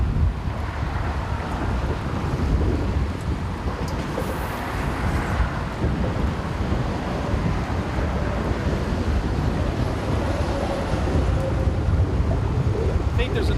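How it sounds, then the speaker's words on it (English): Strong southwest wind gusting around an open-water bridge, a loud, steady roar buffeting the microphone throughout with a faint water wash beneath. "It is windy today."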